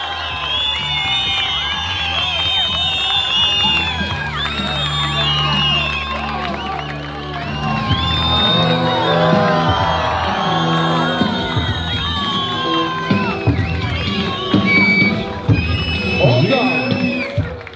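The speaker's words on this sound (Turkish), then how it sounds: "Alkışlarla Baran Çelik." Crowd cheering and shouting at a fighters' weigh-in event in Cizre as a fighter is introduced, loud and sustained with whoops and excited voices, over a steady low musical beat throughout.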